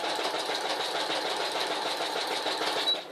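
A sewing machine stitches forward across a lap quilt with a rapid, even mechanical chatter, fairly quiet and close, running without pause for about three seconds.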